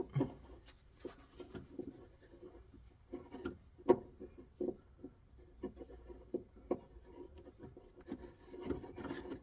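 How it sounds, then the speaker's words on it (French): A new steering ball joint being screwed in on a Renault Clio 2, with irregular scraping, rasping metal-on-metal turns and occasional sharp clicks, close up and fairly quiet, with no talking. "On visse."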